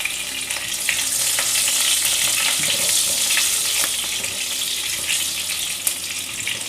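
Two green chillies frying in hot oil in a pan while cooking pavakka theeyal, a loud continuous hiss and sizzle with small crackles and stirring scrapes, close and steady throughout.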